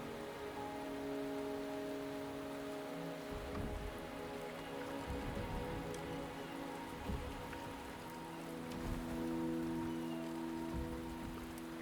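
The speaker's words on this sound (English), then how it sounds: "The rain is subsiding, and the sky will soon clear." Rain falls in the video game Wuthering Waves: a steady, dense patter over a soft, sustained background drone, with occasional deeper rumbles and no voices.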